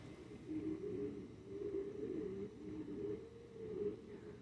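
A Spanish pouter pigeon at a pigeon show coos in low, repeated throaty rolls, moderately close and fairly soft against a quiet background.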